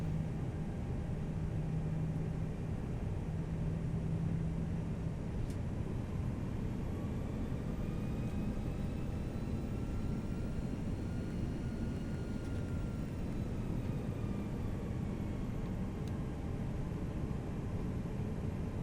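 Simulated cockpit of a Toliss A319 airliner in X-Plane 11 on approach to land at Tampa International. A steady, even engine and airflow drone runs unchanged throughout, with a faint tonal whine and no speech.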